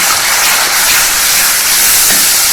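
Tomato puree made from two tomatoes poured into a hot pan for an arbi (taro root) curry, giving a loud, steady steamy hiss and sizzle that holds throughout with no talking.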